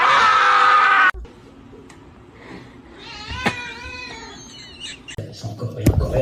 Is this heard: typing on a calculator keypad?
no